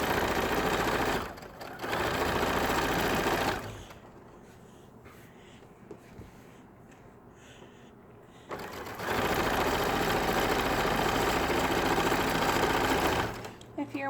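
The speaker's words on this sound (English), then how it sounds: "They're looking at the sewing machine." A sewing machine used to hem with horsehair braid runs in two loud, steady bursts of fast, even whirring and stitching, with a quieter pause between them where a voice talks.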